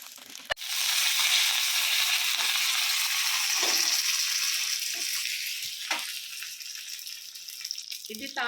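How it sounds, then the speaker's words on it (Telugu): Tempering spices hit hot oil for a mint chutney, a sudden crackling sizzle that starts after a sharp clatter and holds steady, then fades slightly toward the end amid a few utensil knocks. "కొంచెం పైన అలా తాలింపు వేసుకుంటే బాగుంటుంది"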